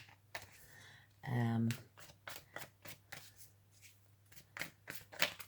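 Playing cards riffled and shuffled up close in quick bursts of flicking and snapping, with a low hum underneath.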